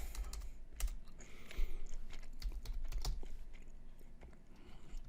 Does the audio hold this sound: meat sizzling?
no